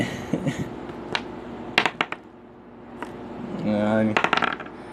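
A 20-sided die rolled for a Dungeons and Dragons game clatters and clicks on a hard surface in several sharp, bright taps spread over a few seconds, with quiet room noise between them.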